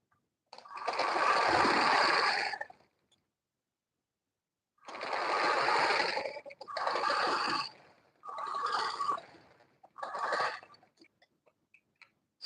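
Sewing machine stitching an Ankara print gown up to the waistline, running in five bursts: a long opening run, a pause, then four shorter runs of steady mechanical whirring, fairly close and with no talk.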